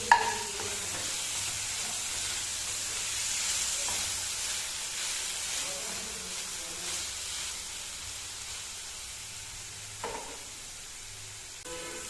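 Tomato, ginger and chili sizzle in a pan of hot oil for vegetarian ghugni, a steady close hiss and crackle with occasional stirring clinks and scrapes, no voices.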